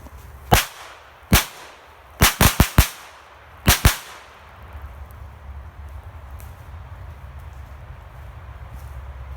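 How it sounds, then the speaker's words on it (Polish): Small firecrackers explode in sand as a string of sharp, loud bangs, a few singles then a quick cluster, followed by quiet outdoor rumble. "Trzeba przyznać, że te małe petardki naprawdę w sumie mają moc"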